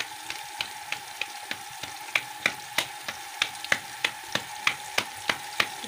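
Cabbage and peas fry in a pan under a soft continuous sizzle, punctuated by sharp, evenly spaced ticks every third of a second or so, nearby and without any voices.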